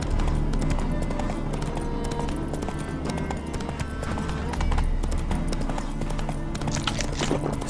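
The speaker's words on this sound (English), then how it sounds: "Spooking my horse. Roach doesn't like ghosts." Roach the horse gallops in The Witcher 3, hooves pounding in a fast continuous clip-clop over a dense, loud game soundscape.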